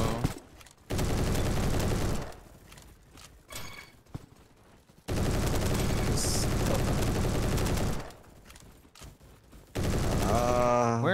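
Loud bursts of automatic gunfire from a shooter video game, rapid volleys lasting a few seconds each and separated by quieter gaps, with no clear speech.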